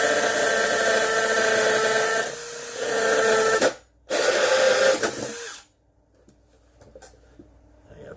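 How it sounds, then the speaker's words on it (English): A power drill bores holes in an Arcade1Up arcade control board, its loud steady whine running for several seconds, cutting out briefly, then resuming before stopping, followed by faint clicks and handling noises. "So we're going to drill those right now."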